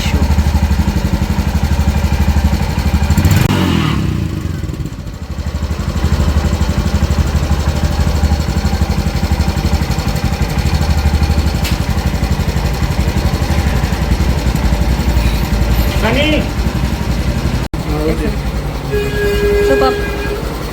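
Repaired motorcycle engine running steadily at idle, a loud close throbbing drone that continues through the stretch, with a brief dip early on and faint voices near the end.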